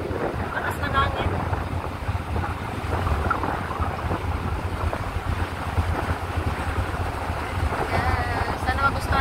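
Strong wind on a ship's deck buffets and roars across the microphone with a low, rumbling gusty texture, alongside the ship's steady drone and some faint sounds of water, at sea between Puerto Galera and Batangas.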